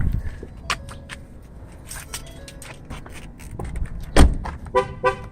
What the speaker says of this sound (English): it's going to honk at you to tell you that the car is still running